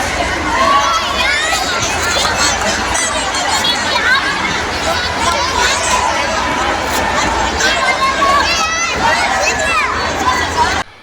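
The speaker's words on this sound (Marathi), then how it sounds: "या मुलांचं ओरडणं चालू आहे" Children shout and cheer in a packed stadium crowd during a sports match with head guards, a continuous loud roar of young voices and crowd chatter throughout.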